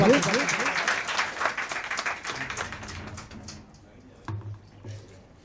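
Applause at an award presentation during a 2019 Urdu mushaira: a burst of crowd clapping that is loud at first and then thins out and fades, with a voice and a few knocks near the end.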